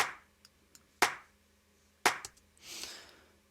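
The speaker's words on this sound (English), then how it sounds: "a clap from the Louis Vuitton pack, but then as you can see it's a little bit off grid" Sampled clap sounds from a music production pack, a few sharp dry hits spaced unevenly off the beat, followed by a softer, longer smeared clap tail, heard alone and close.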